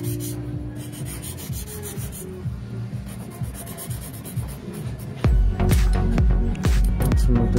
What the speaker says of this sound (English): I'm just going in with the 240 grit file just to make sure those sides are nice and skinny mini and super straight